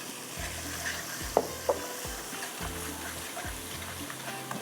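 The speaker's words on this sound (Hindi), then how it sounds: "ये थोड़ा सा लहसुन, ज़ीरा और इसके साथ यहाँ पर फ्राई हुआ है राई के दाने। अब इसके अंदर जाएगा ये मसाला" Masala is tipped into hot oil with frying garlic, cumin and mustard seeds, giving a steady close sizzle with stirring scrapes and a couple of sharp clinks.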